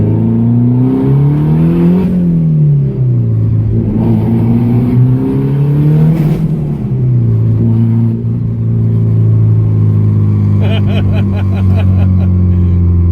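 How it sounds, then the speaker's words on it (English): A loud car engine with an open downpipe exhaust revs repeatedly, pitch climbing and falling in several throaty pulls, then settles into a deep steady drone with some crackling. "It is stupid loud with open downpipe."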